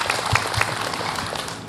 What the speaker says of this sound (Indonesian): Tepuk tangannya dong untuk Ibu EM